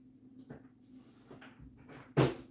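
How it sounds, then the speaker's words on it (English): A door is pushed shut in a room during a livestream, with soft shuffling first and then one sharp close knock near the end. "Ryan, can you shut that door, please?"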